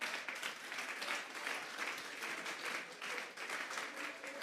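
Congregation at a church service gives the Lord a sustained round of applause, many hands clapping in a continuous, fairly distant and quiet wash that holds steady throughout.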